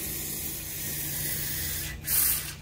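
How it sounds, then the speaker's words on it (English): Aerosol spray of 3M cavity wax fired into the rocker panels of a Fox Body Mustang, a steady close hiss held for the whole stretch with a brief louder burst near the end, no talking. "I spray and pull out at the same time"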